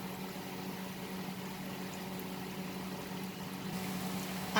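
Potato cheese bites fry in oil with a soft, even bubbling hiss that holds steady at low volume, then swells slightly at the very end.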